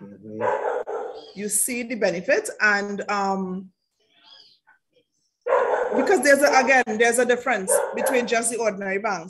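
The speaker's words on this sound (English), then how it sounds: "Please excuse my dogs." Dogs bark and yip in a home, sharp repeated calls mixed in with and just after a conversation, fairly close and loud.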